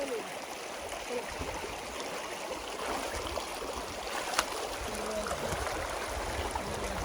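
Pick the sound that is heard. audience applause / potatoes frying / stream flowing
stream flowing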